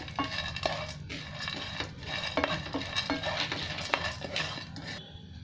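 Chopped cashews and almonds being lightly fried and stirred in a pan, with a spoon repeatedly scraping and clinking against the metal over a soft sizzle, close and fairly quiet.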